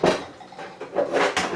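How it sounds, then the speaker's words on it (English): A small green pepper being chopped with a knife on a cutting board in a home kitchen: several close, uneven knocks of the blade striking the board, some sharp and some softer, spaced in a loose rhythm. "So I'm just going to go ahead and chop this"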